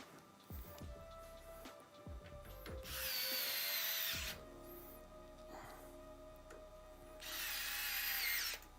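A power drill drives the last two screws into a Corsair 5000D Airflow PC case, with two loud sustained whirring bursts, each a second or so long, after a few light clicks and taps of handling.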